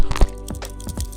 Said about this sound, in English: And here is the sound of keyboard.